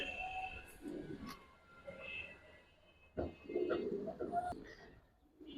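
Silver Homer pigeons in a loft coo in low, soft bursts, two main phrases with a pause between, close by and fairly quiet, with faint higher bird sounds mixed in.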